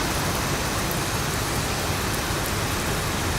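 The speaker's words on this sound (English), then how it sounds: "Okay, this is not light rain. In my opinion, it's heavy rain." Heavy rain in a flight simulator game around a Boeing 737-800 at Vancouver, a loud, dense, unbroken wash of rain noise with no voices.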